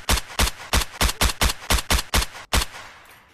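Rapid Glock pistol gunshots in the video game Rec Room, about ten loud, sharp cracks fired in quick succession at an even rhythm, ending with a short fading tail.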